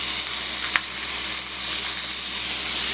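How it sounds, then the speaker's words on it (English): Ground beef sizzling in a hot skillet, a loud steady hiss of frying with a single sharp scrape or pop near the start. "Once you got your skillet heating up enough, all I'm gonna do now, just put some ground beef on with your 2 packs."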